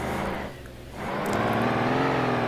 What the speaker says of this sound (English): this truck is making too much noise